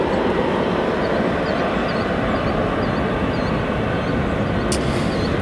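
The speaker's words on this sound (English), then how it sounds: "The 737 arriving from Cancun after a flight time of 3 hours and 21 minutes." Boeing 737 airliner arriving at O'Hare airport, a loud, steady broadband jet roar that stays constant throughout, with no talking.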